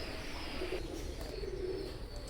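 Oman Teddy pigeons coo softly in a pair of low, brief calls set against a constant background hiss, with no talking.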